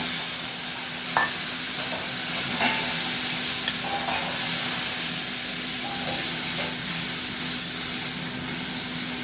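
Tomato goes into onions already frying in a pan for spicy gourd-leaf greens, giving a loud, continuous hissing sizzle with occasional stirring scrapes and taps, close and without speech.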